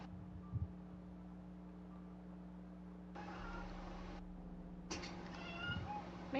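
A cat meows twice indoors, fairly soft drawn-out cries a second apart, over a low steady electrical hum and faint background noise.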